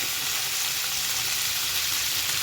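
Boiled cowpeas (bobbarlu) added to a hot pan with oil and turmeric, giving a dense, continuous frying sizzle, close and steady throughout with no voices.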